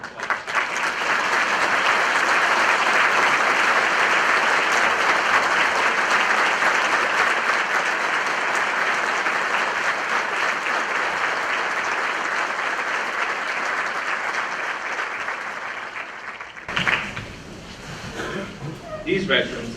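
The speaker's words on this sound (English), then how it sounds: "Please join me in a round of applause." A crowd at a military gathering in Fort Leonard, Missouri applauds veterans with a long, loud, even roar of clapping. It cuts off sharply near the end, leaving a few claps and voices.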